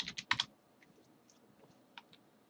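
Quick keystrokes on a computer keyboard entering a four-digit Lego set code, a brisk cluster of close clicks at the start followed by a couple of lighter taps a moment later, with nothing else around them.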